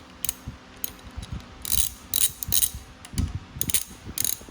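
A ratchet wrench with a 12 mm socket loosens bolts on a turbocharged Toyota 2AZ-FE four-cylinder engine during teardown, giving close, crisp bursts of clicking in short uneven strokes with brief pauses between.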